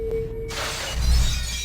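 A porcelain piece breaks on the floor upstairs in one sharp, loud crash of scattering shards, then a low rumble that fades quickly.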